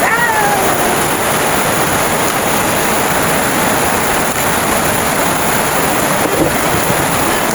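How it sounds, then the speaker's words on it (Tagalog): Steady rain falls during a rainy-weather snack of sweet potato, a dense, even hiss filling the whole stretch at constant loudness with no voices. "Panahon na ulan."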